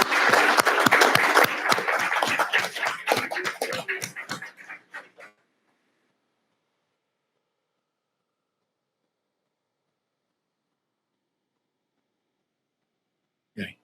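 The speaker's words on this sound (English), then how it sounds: "Please join me in another round of applause for these very successful students." A round of applause at a school district board meeting for successful students, steady clapping for about five seconds that fades into silence, then a brief noise at the end.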